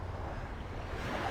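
Small waves lap gently on a calm, deserted beach shore at Clam Pass Park in North Naples, Florida, a soft continuous wash of water with light wind noise and no voices.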